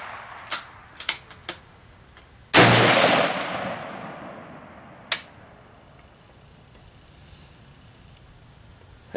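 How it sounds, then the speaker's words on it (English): A DPMS Oracle AR-15 fires Federal XM193 55-grain 5.56 ammunition at 100 yards, one sharp loud shot with a long echoing tail, among a few lighter clicks and a later sharp crack outdoors. "So I'm just going to shoot, have some fun,"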